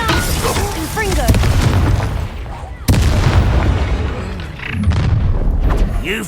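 Blasting spell explosions in the Hogwarts Legacy video game go off in loud booming bursts, two main blasts with crackling debris and rumbling tails.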